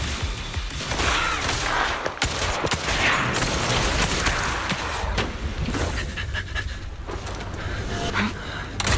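Gunfire in the video game Zenless Zone Zero, with a sniper character shooting: loud, dense bursts of shots and booming impacts crackle through most of the stretch amid busy game effects.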